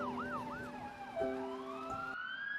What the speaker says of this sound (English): We're about to hear some police sirens.